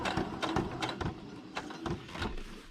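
A sewing machine runs a straight stitch through paper in rapid mechanical bursts, a clattering needle rhythm with brief pauses between runs, close and fairly loud, with no one talking.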